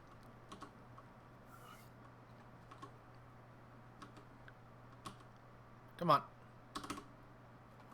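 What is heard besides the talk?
computer keyboard keys being tapped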